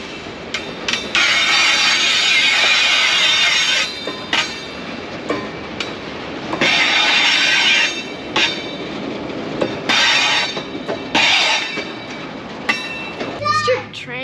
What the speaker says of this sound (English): you can hear the creaking of the brakes just for a good 5 minutes